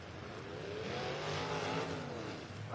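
Race car engines rev and roar at a racing event, a fairly distant, rising and falling mechanical growl that swells in the middle and fades slightly at the end, with no one speaking.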